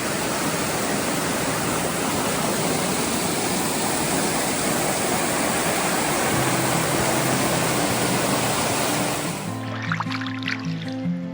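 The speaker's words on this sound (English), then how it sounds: "Nice waterfall." Waterfall pouring over rock into Ten Mile Lake in Algoma, a steady, loud, close roar of rushing water that fills the clip, easing off near the end as other faint sounds come through.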